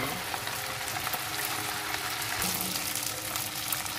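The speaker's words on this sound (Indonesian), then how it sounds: "Kemudian kita gorengkan ikan bilis ni sampai garing, ya." Anchovies frying in hot oil in a wok, a steady dense crackling sizzle throughout, close and even, with no talking.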